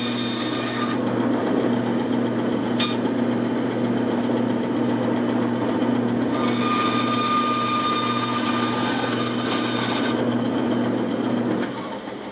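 Steady rasping strokes of a file shaping a cut-down MKA shotgun's stock to fit, a continuous close scraping that runs without pause under a constant machine-like hum, with no talking.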